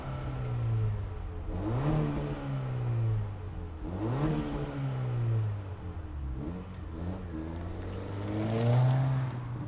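A 2025 Acura Integra A-Spec engine revs repeatedly, its pitch rising and falling in several sweeps over a steady idle drone, close and fairly loud.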